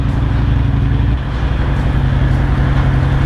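A Shadow motorcycle with a new exhaust rumbles loudly and steadily at close range on the Serra do Rio do Rastro mountain road, its deep engine note changing pitch partway through.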